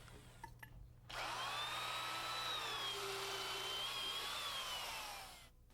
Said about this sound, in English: We use a heavy-duty drill motor and a good sharp auger bit to drill our holes.